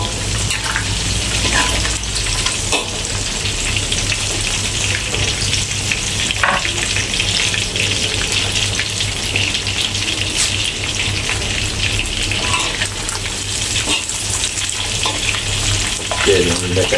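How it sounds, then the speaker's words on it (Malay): Chicken pieces coated in turmeric frying in hot oil, a dense continuous sizzle and crackle with occasional stirring clinks, close up and steady for the whole stretch. "ayam ni kita goreng dulu Ni dah dianu dengan kunyit. Goreng sampai garing."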